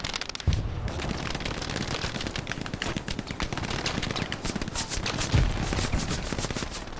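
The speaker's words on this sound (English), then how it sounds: "I hear a lot of shooting." Dense, continuous machine-gun fire rattles throughout a video game battle across an open field, rapid overlapping shots forming a steady loud barrage with a couple of heavier thumps, no voices over it.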